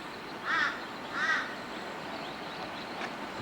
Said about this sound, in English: Hear that crow in the background.